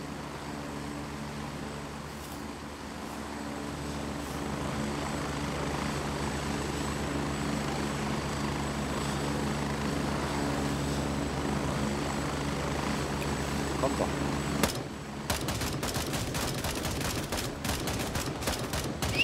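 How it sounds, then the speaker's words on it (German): A helicopter's steady rotor drone fills the soundscape in the video game Gray Zone Warfare, then rapid bursts of gunfire crackle in near the end. "die Wichser sitzen schon im Hubschrauber"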